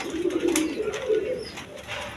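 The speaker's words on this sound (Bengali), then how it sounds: "এইখানে এক পেয়ার রাসগোল্লা কবুতর আছে" A pair of Rasgolla pigeons coo softly and repeatedly at close range, low murmuring calls carrying steadily with faint background noise and no speech.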